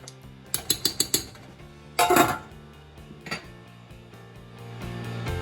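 A spoon knocks and scrapes against a pot of spicy chili, giving four quick clinks followed by a louder burst of stirring, then a few softer taps. All of it sounds close and there is no talk.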